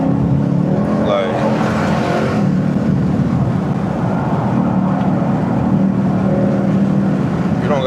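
Close, loud engine roar from a 500HP Ford Mustang GT accelerating, the exhaust note climbing through revs at the start and then holding a steady high drone, with a voice faintly mixed in beneath.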